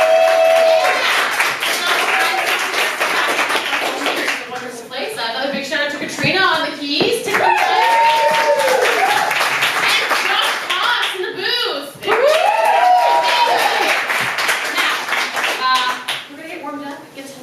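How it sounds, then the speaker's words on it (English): A crowd at a live improv Dungeons & Dragons show claps and applauds under a host who keeps talking loudly over the steady patter of hands. "Let's give them a big round of applause."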